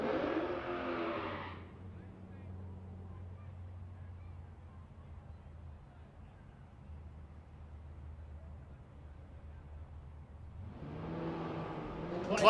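A Corvette and a Chevy II drag racing down the strip at a race week event roar away loudly at first, then fade into a distant low drone before a second loud, near engine burst returns at the end.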